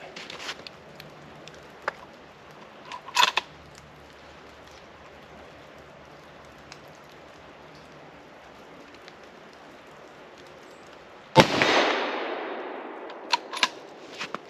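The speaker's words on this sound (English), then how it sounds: "I'll just take a shot each of these plates" A single loud rifle shot at an outdoor range, a 1903 Springfield fired at steel plates, with a long decaying boom, after quieter ambient sounds and faint clicks.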